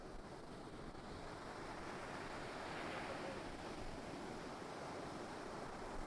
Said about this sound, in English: Those are some big breaking waves out there.